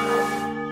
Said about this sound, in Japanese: このカンカンカンカンってのが、普通さカンコンカンコンがさ、こういう鐘って多いけど